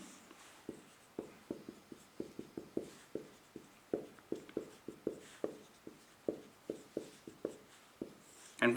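Pen or chalk writing matrix equations by hand, a steady series of short, close scratching strokes in an irregular rhythm and no talk.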